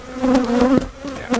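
Honeybees buzz steadily at an opened hive during an inspection checking for queen cells, a close, continuous drone with a few sharper flicks as individual bees pass near; no speech.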